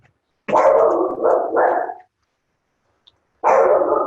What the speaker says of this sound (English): Sorry, my puppy's growling in the background.